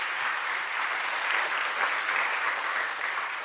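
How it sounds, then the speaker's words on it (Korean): A church congregation applauds together during a worship service, steady dense clapping filling the room without a break for several seconds, fairly loud and with no voices over it. "이 모든 일을 이루신 하나님께 다시 한번 우리가 함께 영광의 박수를 올려드리기 바랍니다."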